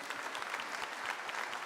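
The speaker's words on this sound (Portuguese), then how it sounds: "Pode aplaudir isso em nome de Jesus." A church congregation claps steadily at a Portuguese-language family camp service, with dense, even applause at a moderate distance throughout.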